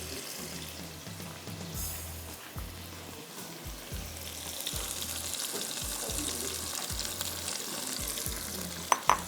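Onions and bay leaves frying in hot oil in a pan, a continuous close sizzle with regular low thumps from stirring, growing brighter toward the end.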